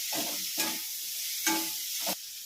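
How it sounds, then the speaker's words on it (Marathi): Onion and capsicum sautéing in a pan while a Hakka noodle stir-fry is being made, giving a steady sizzle with several brief stirring scrapes spaced through it. "त्यानंतर आपण यामध्ये कांदा टाकून घेणार आहोत थोडासा. तोही छान असा परतून घेणार आहोत."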